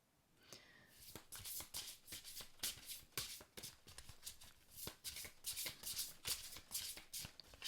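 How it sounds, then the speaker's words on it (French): A deck of oracle cards is shuffled close up, a long run of rapid, rhythmic riffling and slapping bursts that grows steadily louder over several seconds, with no talking. "vous voyez que le brassage se fait tout seul"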